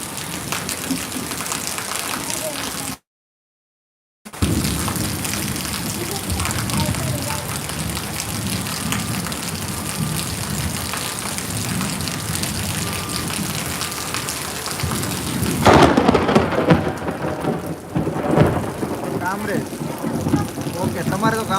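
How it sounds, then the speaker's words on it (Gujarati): Heavy rain roars continuously and loudly in Surat, a thick wash of noise with a short break and rumbling surges, voices faintly audible beneath it. "સુરતમાં હાલ શરૂ છે વરસાદ"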